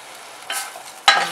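Mushrooms are dropped into a cooked tomato gravy, giving two short bursts of sizzling and stirring over a quiet background.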